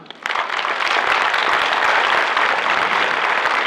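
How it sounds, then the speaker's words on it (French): A cinema audience bursts into applause, swelling quickly from near silence into a dense, sustained roar of many hands clapping that stays loud and even to the end. "Ah, merci Laurent, on peut l'applaudir"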